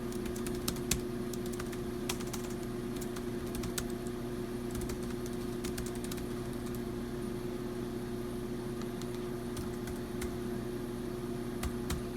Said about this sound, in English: try an impromptu little keyboard typing test thingamajig